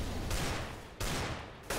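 Rapid bursts of gunfire in a CS:GO 2v2 match, with three loud successive volleys each starting sharply and tailing off, heard near and without talk.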